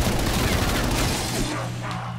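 A stun grenade bursting in the Call of Duty zombies map Die Maschine, a loud, broad blast washing into a lingering rumble and ringing hum that fades within two seconds.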